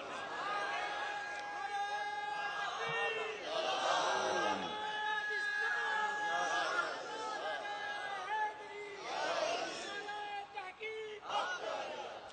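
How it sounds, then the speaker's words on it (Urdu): Crowd at a religious gathering chanting a slogan in loud unison, the massed voices rising and falling in repeated waves over about twelve seconds with a lead voice calling between them. "یہ بات نعرے کی تھی، اب نعرہ لگاؤ"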